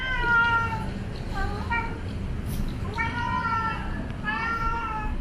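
A pet cat in a Singapore home meows repeatedly, several clear drawn-out calls close to the microphone, with short pauses between them and no talking over them.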